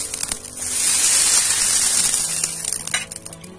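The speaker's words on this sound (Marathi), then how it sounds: "आता मी यावर तेल सोडणार आहे" Oil hitting a hot iron griddle over a wood-fired stove while sweet rice-flour gharis cook, a loud steady sizzling hiss that swells after the first second and crackles on to the end with no talk.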